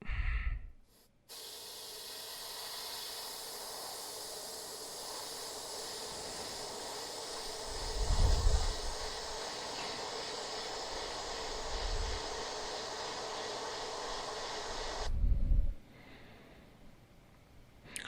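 An airbrush sprays thinned orange paint onto a crankbait in a continuous hissing stream lasting over ten seconds, with soft bursts of breath or air thumps along the way.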